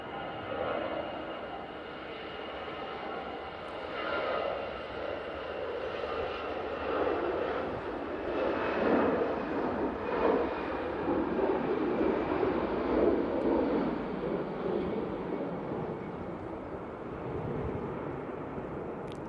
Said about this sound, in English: EasyJet now on the roll. It's an A320 and is off to Geneva.